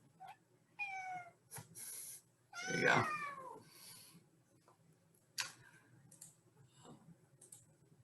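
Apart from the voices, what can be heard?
cat meowing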